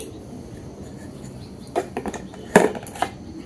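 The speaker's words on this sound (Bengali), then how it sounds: "বেক হওয়ার জন্য বিস্কুটের পাত্রটি এর মধ্যে বসিয়ে দিচ্ছি।" A metal biscuit pan is set into hot sand inside a clay earthen oven for baking eggless biscuits, giving a few faint clinks and scrapes and then one sharper clank over a quiet background.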